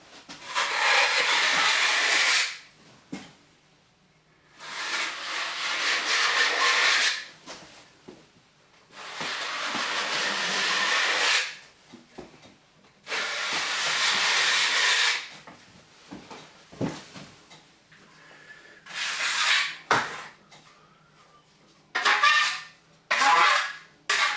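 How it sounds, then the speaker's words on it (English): A notched trowel scrapes across tile adhesive spread on a wall, in a series of rough, rasping strokes a few seconds long with short pauses between, close and fairly loud, with no talking. "I've applied some more adhesive, and now I'm just going to go over it with the notch trowel"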